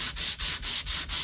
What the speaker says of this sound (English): I'll just get it all sanded back a little bit, and then we'll go down the grade, the rougher grade sandpaper